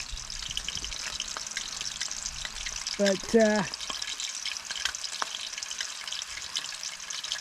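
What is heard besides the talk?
oil splattering and sizzling when water hits it while frying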